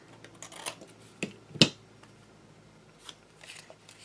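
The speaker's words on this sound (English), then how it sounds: "I'm going to just take my scissors and I'm going to eyeball it to about that line" Scissors snip through paper while a tiny handmade book is trimmed, a few faint, sharp cuts, the clearest one near the middle, in an otherwise quiet room.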